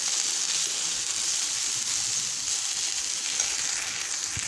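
Okra (bhindi) fries with salt in a hot pan, giving a loud, continuous hissing sizzle with faint stirring scrapes underneath, close and steady throughout.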